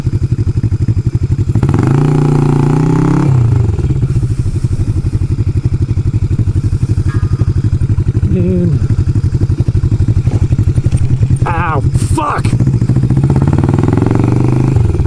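A motorcycle engine runs loud and close with a rapid, rough, uneven idle and a few sharp revs, and clanks and clatters are heard briefly near the end.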